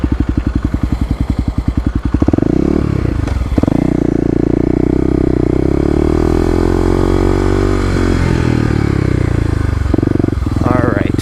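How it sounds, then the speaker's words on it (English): Kawasaki KLX250 dirt bike engine, single-cylinder, opening with a rapid idling putter before the throttle is blipped in first gear into a loud sustained rev that rises and falls, then a brief rev at the end, close up. "I'm kind of going to blip the throttle in first so you can see"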